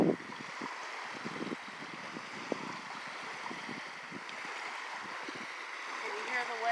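Gentle lake waves make a soft, steady watery wash close to the shore, faint and continuous, with light wind and scattered soft knocks over it.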